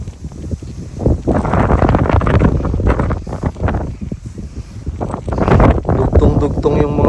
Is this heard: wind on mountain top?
yes